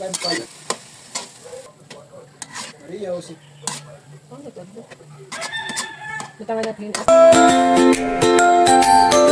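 Corned beef hits a hot pan and sizzles as it is sautéed, a soft stirring crackle that swells into a loud steady fry, with a rooster crowing and faint background sounds nearby.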